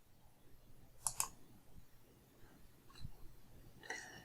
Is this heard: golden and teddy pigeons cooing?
no